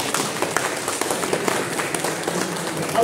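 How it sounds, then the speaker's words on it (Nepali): An audience of film journalists at a press event claps together in a continuous, dense burst of applause that fills the room for a few seconds. "एकचोटि फेरि आवाज आउने गरी ताली लाउ"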